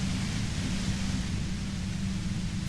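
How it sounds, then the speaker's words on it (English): Steady, dense white noise static fills the whole stretch without a break, a constant loud hiss from the Disco Elysium video game with no voices. "You hear through the white noise."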